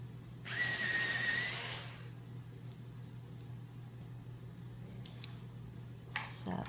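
A colored pencil being sharpened in an electric sharpener, giving a brief loud whirring grind of about a second over a steady low hum, followed by a few faint clicks and handling noises.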